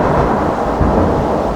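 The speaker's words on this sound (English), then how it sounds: "Nice bit of thunder there." Loud afternoon thunder rolls in a continuous deep rumble that swells slightly midway, with no voices.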